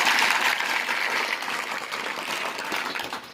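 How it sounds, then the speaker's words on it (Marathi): An audience claps in unison for a school physical coach, a broad wash of applause that is moderately loud and fades slightly toward the end, with no speech over it. "त्यांच्यासाठी एकदा जोरात टाळ्या वाजवा"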